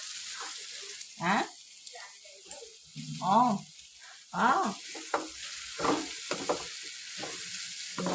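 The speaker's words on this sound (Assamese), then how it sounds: "এয়া কলডিলখিনি মানে এনেকৈ অকণমান মানে ভাজি ল'ব লাগে" Bursts of sizzling as banana flower fries in a pan, rising and fading every second or so as it is stirred, with quiet gaps in between.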